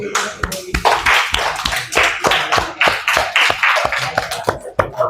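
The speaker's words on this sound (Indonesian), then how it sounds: "Oke, tepuk tangan buat Nimas ya" A classroom group applauds together, a dense, lively stretch of overlapping hand claps that keeps a steady level from start to finish with no talking.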